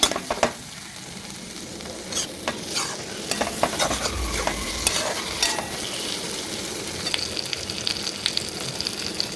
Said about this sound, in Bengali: টমেটো কুচিটা দিয়ে দিচ্ছি এটার মধ্যে এটাকে নেড়ে নেব কিছুক্ষণ